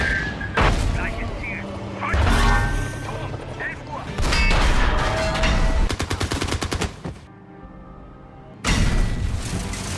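In the 2014 war film Fury, a tank strikes a landmine: loud booming blasts and rapid bursts of gunfire break out in heavy chunks with brief quiet gaps, and voices mix in among the noise.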